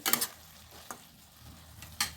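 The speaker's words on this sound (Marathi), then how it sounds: "आता याला आपण परतून घेऊ" Tomato chutney with a lump of jaggery is sautéed in a pan, giving short sizzling bursts and stirring scrapes at the start, the middle and the end, close and fairly soft.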